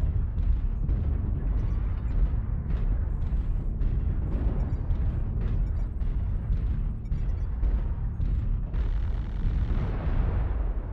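Artillery strike explosions in MechWarrior Online on a night city map, a dense, rumbling barrage of booms and bursts rolling continuously at steady loudness.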